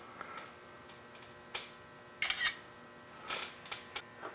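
Before a brake pad and rotor job on a 2010-2018 Toyota 4Runner, a camera shutter fires several quiet clicks at irregular intervals, one a quick double snap, over a faint steady hum.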